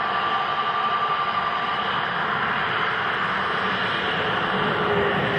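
Airbus airliner engines at Manchester Airport give a steady, loud jet roar and rumble that stays even throughout, with no voices over it.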